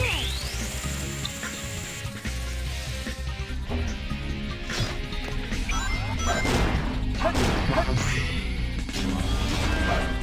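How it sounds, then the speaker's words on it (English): Glass smashes in Sonic Adventure 2 as the high-speed warp tube is broken, a loud crash amid dense game effects and music, with whooshes and clattering debris following. "Break the glass and jump"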